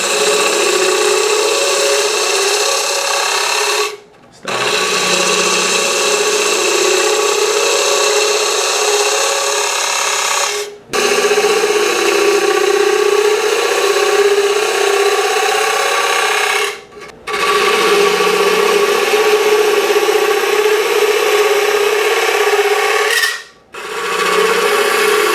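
Wood lathe pull cut into a faceplate-mounted box, the tool tip's corner shaving the spinning wood in a steady, loud rasping hiss that runs in long stretches broken by three brief pauses.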